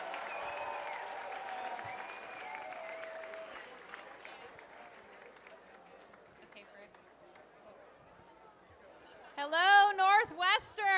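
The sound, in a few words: audience applause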